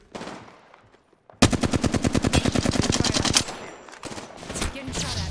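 Automatic weapon fire in the shooter game Apex Legends rips out in a fast, evenly spaced burst of about two seconds, loud and close, followed by scattered quieter shots and impacts.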